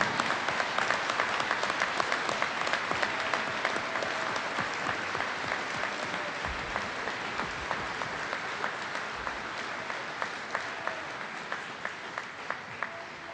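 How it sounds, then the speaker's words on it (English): A high school commencement crowd gives the graduating class of 2021 a long, steady round of applause, a broad wash of clapping with scattered sharp claps and distant whoops. "Let's give the class of 2021 one more round of applause"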